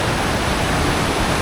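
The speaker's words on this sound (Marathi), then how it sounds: "बघा मित्रांनो किती आवाज येत आहे, किती प्रवाह आहे पाण्याला" Powerful roar of a monsoon-swollen river rushing below the Bhandardara waterfalls, a dense, constant, loud wash of water filling the whole moment with no voices.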